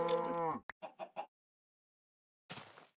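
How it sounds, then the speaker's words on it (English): A cow in Minecraft Beta 1.7.3 gives a single short, close moo, followed by a few quick blocky bursts and a brief rustling noise after a pause. "Ooh, another cow."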